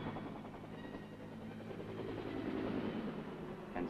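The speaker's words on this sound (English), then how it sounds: "The Huey takes off like an angry hornet." A Huey military helicopter lifts off and flies with a steady, dense rotor and turbine roar that holds throughout, slightly swelling toward the end, on a grainy old recording.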